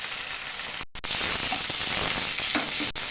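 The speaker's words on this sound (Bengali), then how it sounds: "সেদ্ধ করা আলুগুলো দিয়ে দেবো এবার।" Boiled potatoes frying in hot oil with asafoetida, five-spice, chopped ginger and green chillies for samosa filling, a loud continuous sizzle with crackles and a brief drop in sound as they hit the pan.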